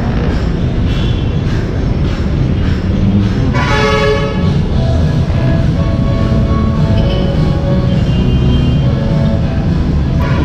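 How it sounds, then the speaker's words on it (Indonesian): LRT light rail train at a station, a loud steady rumble of the train close by with a horn sounding partway through as a series of tonal toots over the roar. "So, naghihintay na lang tayo ng LRT,"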